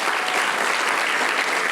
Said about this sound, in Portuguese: Você pode dar uma salva de palmas a Jesus por isso?